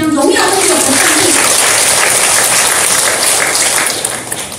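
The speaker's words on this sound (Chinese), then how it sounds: "我们再一次拍手，我们将荣耀归给我们上帝。" A church congregation clapping hands together, a dense, steady roar of many hands held loud and close for several seconds before it starts to fade.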